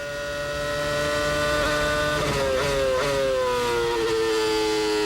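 A high-pitched Formula 1 car engine whines steadily during the 2006 Chinese Grand Prix, its pitch sliding down slightly as it passes, loud and sustained with no talking.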